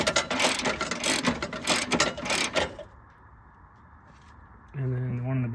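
A ratchet tightens a bolt on a 2011-17 Honda Odyssey engine during timing belt and water pump work, giving a close, dense run of rapid clicks for about three seconds, then a quiet pause before a steady whirring tone.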